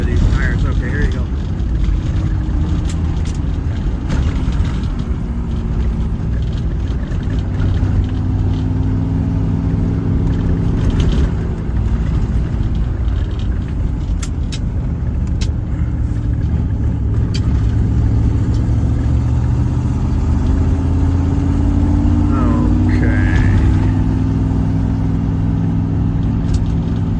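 Land Rover Defender 110 with the center differential locked, climbing up pavement, its engine droning steadily and rising and falling in pitch through the run while someone talks over it.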